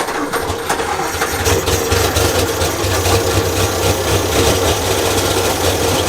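A 1932 Morris Minor engine catches and settles into a loud, continuous running drone with a rapid mechanical clatter, close by and steady throughout.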